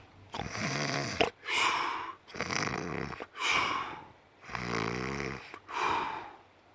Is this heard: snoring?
yes